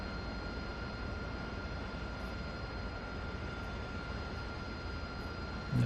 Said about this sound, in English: we have our engine started